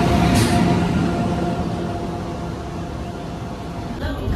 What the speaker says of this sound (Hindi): तो चढ़ गए अपन ईएमयू के अंदर